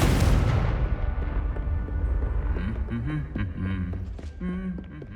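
Confringo spell going off in Hogwarts Legacy: one loud explosive boom at the start that decays into a rumbling tail, followed by fainter tonal game effects.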